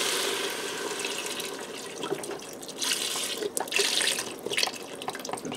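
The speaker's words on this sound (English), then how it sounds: "I'm going to add in 2 cups of beef broth." Beef broth poured into a pressure cooker after sautéed onions, a continuous splashing liquid stream running for several seconds, close and fairly quiet, with a few louder gurgles toward the end.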